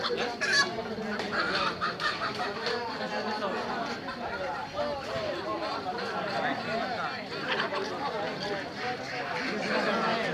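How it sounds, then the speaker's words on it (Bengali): Chickens and ducks cluck, quack and squawk amid a busy crowd, with constant chatter and someone talking over the noisy poultry market at Saturia Bazar, Manikganj, Bangladesh. "আমি এখন দেখাচ্ছি সাটুরিয়া বাজারের হাঁস মুরগির বাজার"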